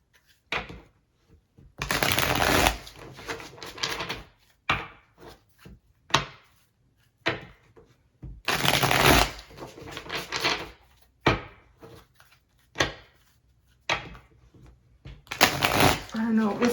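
Tarot cards being shuffled in bursts of crisp riffling, three loud spells separated by quieter handling, tapping and card clicks, fairly close.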